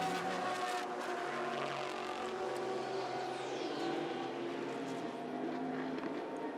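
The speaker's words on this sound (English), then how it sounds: "Here at the spin with the 911 was maybe contact with the 60 of John Pugh, the Mike Shank Racing Ligier." A Porsche 911 race car spins during the 2015 Lone Star Le Mans race, with a loud, steady engine roar and possible tire squeal running through the whole stretch, heard alone without talk.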